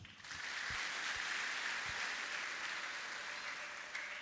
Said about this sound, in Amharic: እስቲ ለራሳቸው አጨብጭቡ።